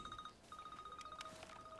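A telephone rings in the video game Alan Wake II, a quick repeated electronic trill in short bursts with a brief pause, faint and alone.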